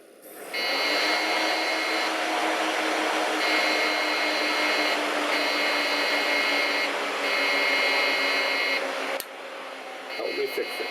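A vintage Seagate hard drive and computer powering up: a steady mechanical whir with tonal hum, like a fan and drive spinning up, runs nearly constant for about nine seconds before a click and a quieter hum.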